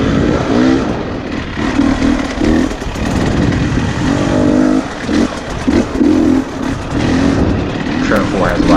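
A 2020 KTM 300 XCW TPI two-stroke dirt bike on a forest trail, its engine revving hard and loud in repeated bursts up close, with someone talking over it and wind buffeting throughout.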